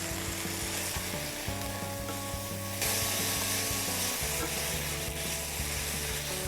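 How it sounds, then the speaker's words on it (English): Pork sizzles and fries in a hot pan, a steady, close crackling hiss with stirring scrapes, growing slightly brighter midway, with no talking. "pork is starting to cook. You can see as it's turning white."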